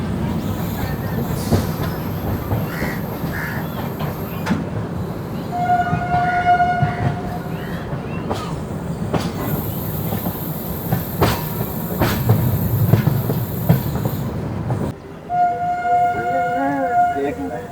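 Simhadri Express, train 17239, running at speed on rails, a steady loud rumble and clatter heard from on board throughout, with sharp horn-like tones cutting through at intervals and a brief drop near the end.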